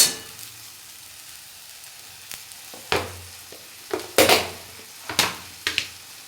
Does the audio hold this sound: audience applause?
no